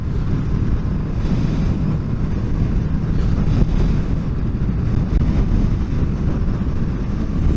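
Heavy side wind buffeting the microphone while riding a Honda VFR800 motorcycle, a loud continuous low roar that stays steady throughout with no voices.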